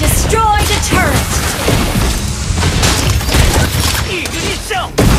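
A turret is destroyed in the mobile game Mobile Legends: a burst of booms, crashes and rapid combat impacts, loud and busy, with brief spoken game announcements mixed in.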